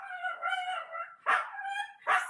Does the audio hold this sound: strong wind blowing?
no